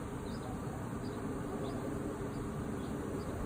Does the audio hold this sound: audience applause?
no